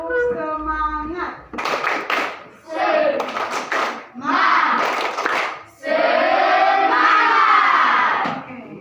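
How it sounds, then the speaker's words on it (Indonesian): A class of students in a classroom claps in rhythmic bursts for a spirited cheer, the loud clapping broken by short pauses and mixed with children's chanting and shouting voices. "Tepuk semangat."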